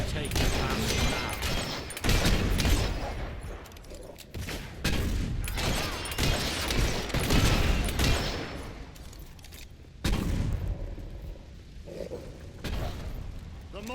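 A battle rages in the Fable 3 video game: heavy mortar booms and rattling bursts of gunfire come in repeated loud waves, with shouting voices mixed in.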